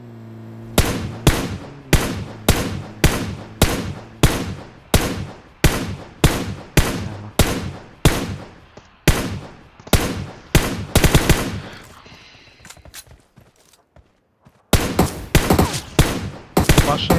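Rapid bursts of automatic gunfire from the Rush game, played by an F35 clan, crack out loud and close in a steady repeating rhythm, pausing briefly before a final volley.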